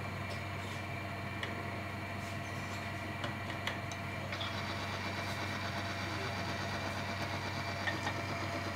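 An engine with water mixed into its oil, treated with Polytron metal treatment, runs steadily at idle with a faint ticking knock, a continuous near drone heard alone without talk.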